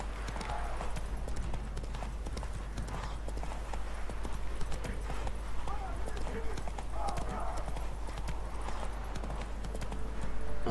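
Horse hooves clip-clopping steadily in The Witcher 3, a continuous rhythmic gallop that runs the whole time beneath a constant low hum and game ambience.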